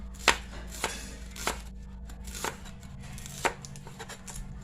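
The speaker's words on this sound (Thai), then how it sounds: "แล้วก็มาปอกหอมแดงเลยค่ะ แล้วก็หั่นค่ะ" Knife chopping shallots on a cutting board, several crisp irregular chops over a steady low hum, close by and without talking.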